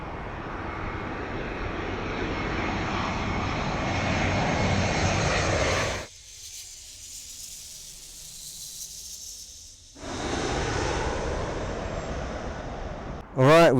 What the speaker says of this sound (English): Right, we've got a Finnair plane coming from Helsinki.